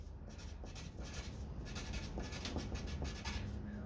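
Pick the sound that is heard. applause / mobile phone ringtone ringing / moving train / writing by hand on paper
writing by hand on paper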